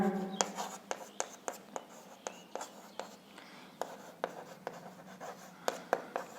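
Pen scratching on paper during a Class 10 maths lesson, a series of quick sharp strokes at an irregular rhythm, close and fairly quiet, with soft muttered speech underneath.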